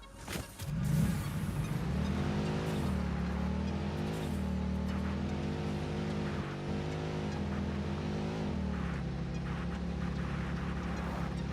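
A car driving in the factory-building video game Satisfactory, a steady engine drone with shifting pitch that holds loud and continuous throughout, with no talking over it.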